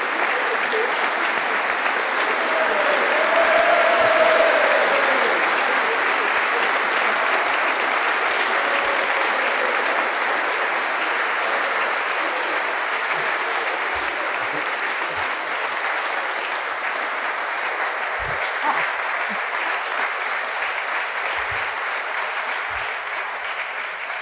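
Sustained audience applause welcomes rugby player Jonny Wilkinson onstage, a dense, steady wash of clapping that holds for over twenty seconds, with a brief swell near the start and a voice faintly audible underneath.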